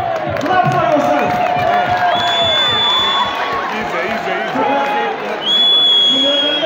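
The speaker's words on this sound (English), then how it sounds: "Clap for yourself." Crowd cheering and clapping at a public gathering, with whoops and whistle-like shouts rising over a dense, steady wash of voices and talk for several seconds.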